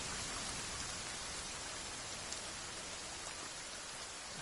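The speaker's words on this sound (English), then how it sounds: "The rain's very loud too." Loud, steady rain pours in a forest survival video game, a dense unbroken hiss of drops with no pauses and no voices.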